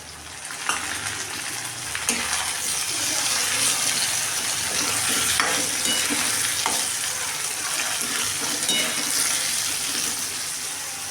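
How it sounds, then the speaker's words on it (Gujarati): Onions and tomatoes sauté in a pan with a loud, continuous sizzle that holds steady throughout, with a few faint stirring clicks and no talk. "ડુંગળી બરાબર સાંતળી લેશું"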